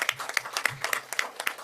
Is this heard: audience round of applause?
yes